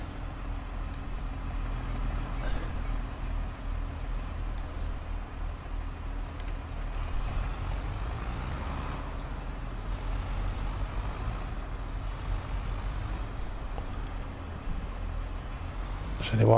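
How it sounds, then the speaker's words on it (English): A tractor drives in Farming Simulator 22, its engine a steady, continuous low drone that holds at an even level throughout. "I'm going to have to push that through with a tractor."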